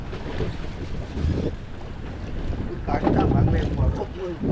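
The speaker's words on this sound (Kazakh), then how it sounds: "қайық бар ғой, кәдімгі қатты тербеледі екен" A small boat rocks on the sea while fishing off Thailand, with steady wind buffeting the microphone, water sloshing against the hull and low engine-like rumble throughout.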